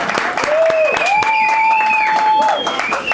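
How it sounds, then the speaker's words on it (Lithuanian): An audience claps for a young performer at a stage event, a dense, close rattle of many hands running throughout, with a tonal voice sounding over it. "paplokim dar kartą"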